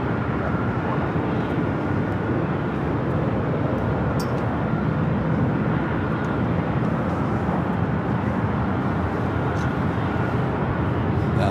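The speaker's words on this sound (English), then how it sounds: "Alaska Horizon flight taking off on the south side, heading to Vegas." An Alaska Horizon airliner takes off from the south side of LAX, giving a steady, broad jet roar that holds at an even level throughout, fairly close and continuous with no talk over it.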